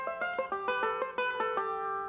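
A five-string banjo picks a rolling pattern high up the neck, a fast run of bright, ringing plucked notes with steady, close attack and sustained overtones, alone with no voices.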